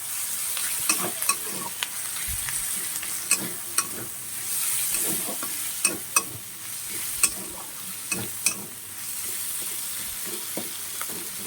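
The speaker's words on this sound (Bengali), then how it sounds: "এই চিংড়ি মাছের সাথে পেঁয়াজটা পুরোপুরি ভেজে নিলাম। একটু ভালো করে নাড়াচাড়া দিতে হবে, যাতে কড়ার তলায় একটু না লেগে যায়।" Onion and prawns fry in a wok with spinach nearby, under a continuous sizzle. A spatula scrapes and clinks against the metal in repeated stirring strokes, close and clear.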